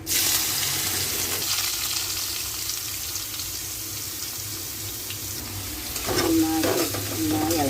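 Loud, steady sizzling as cut snake gourd hits hot oil with mustard seeds, with stirring and scraping sounds joining later.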